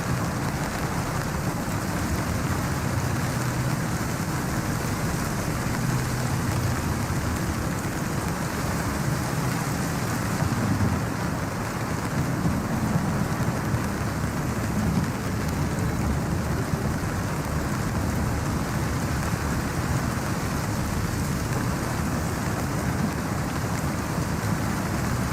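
Steady heavy rain lashes against grimy windows of an old lighthouse tower during a storm, a continuous dense wash of noise with low rumbling underneath, even and unbroken throughout with no voices.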